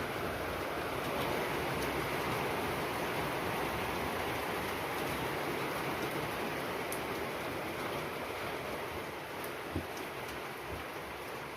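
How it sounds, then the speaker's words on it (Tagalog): Steady rain falls continuously through the whole stretch, a dense, even hiss of drops on surfaces with no talk over it. "Yan mga kaibigan, umulan."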